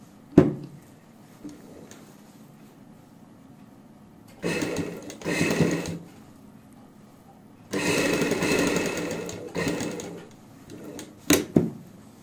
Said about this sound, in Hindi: इस तरीके से रखते हुए फिर से सिलाई लगाएंगे पाइपिंग के साथ साथ